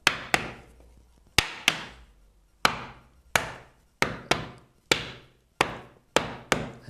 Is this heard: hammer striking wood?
yes